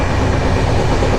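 Inside the Shipra Express sleeper train, a loud, steady rumble and roar of the carriage running over the rails fills the cabin with no voices.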